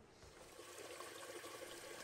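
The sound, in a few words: toilet tank refilling with water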